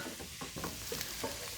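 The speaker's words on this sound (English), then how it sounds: "It's been cooking down for about 10 minutes on a high heat in that butter." Trinity vegetables sweat down in butter over high heat, a soft steady sizzle with a few stirring scrapes and clicks, close and without speech.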